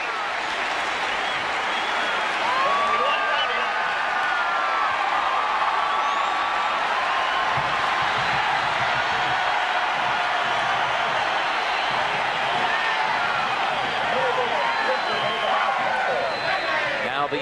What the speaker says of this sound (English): Now the entire crowd on its feet